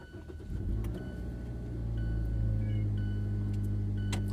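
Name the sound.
car engine starting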